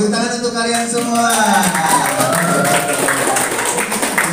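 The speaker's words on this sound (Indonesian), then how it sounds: "tepuk tangan untuk kalian semua" A class of pupils applauds, a dense wash of clapping close at hand while voices cheer and chatter over it, sustained at a steady level throughout.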